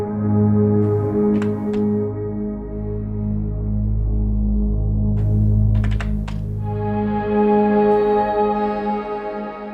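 Abandoned, an Omnisphere synth atmosphere patch, plays as a sustained, droning pad of layered tones that swell and shift slowly, with a few faint clicks on top and a brighter layer entering near the end.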